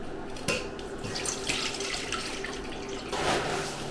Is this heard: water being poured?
yes